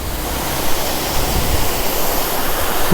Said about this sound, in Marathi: तर बघा वॉटरफॉल